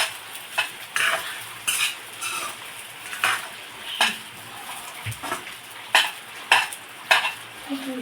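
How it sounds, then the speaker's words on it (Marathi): Soaked sabudana being stirred and sautéed with chillies in a pan, a spatula scraping the metal in regular strokes about once a second over a soft, continuous sizzle. "मिरच्या भाजल्या की त्यात हा भिजवलेला शाबू आपण घालूया. थोडा परतून घ्यायचा."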